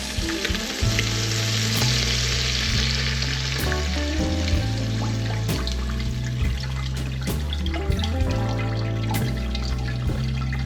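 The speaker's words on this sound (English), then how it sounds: "Now I'm going to add the vegetable broth." Vegetable broth poured into a hot pot of collard greens, giving a loud, steady sizzle and bubbling with stirring scrapes over a continuous tonal background hum.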